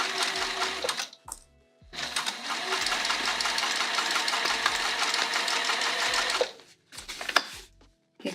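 A sewing machine stitches a bag seam in long steady runs, loud and close, with short pauses as the fabric is shifted and a brief final burst; no one speaks.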